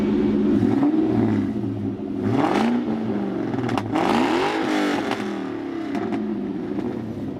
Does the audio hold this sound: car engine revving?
yes